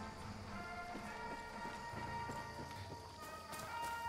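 Horse hooves clip-clop at a running pace in the Far Cry 6 video game, a steady galloping rhythm of soft thuds set under continuous game music and ambience.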